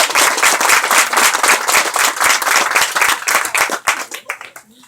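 Dense, loud applause from the crowd at the L M Davis Elementary School historical marker unveiling in Jupiter, Florida, many hands clapping steadily up close before thinning out and fading near the end.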